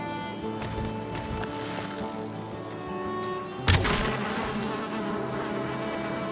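Bees buzz around an old beehive in a forest, a steady insect hum close by with a brief louder burst partway through.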